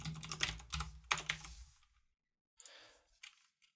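Bursts of quick clicking keystrokes on a computer keyboard while C# code is typed, a dense run in the first two seconds, then a pause and two shorter, softer bursts of typing.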